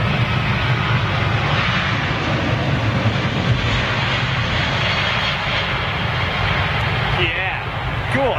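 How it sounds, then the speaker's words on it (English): Airliner with Rolls-Royce Trent engines at London Heathrow on a windy day: a loud, steady jet engine roar holding throughout, with people talking over it. "Beautiful setup of Rolls-Royce Trent 8s, bolted to her wings."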